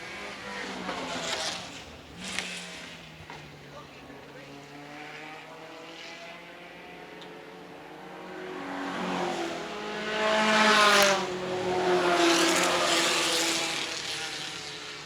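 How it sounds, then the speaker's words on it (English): Vintage Lotus 7 race cars run on a track at a vintage grand prix, engines droning and rising in pitch as they pass, swelling louder near the end against a steady outdoor background. "I don't know how well you can hear the cars, but I'll tell you that just compare the sound of the 2 Lotus 7s"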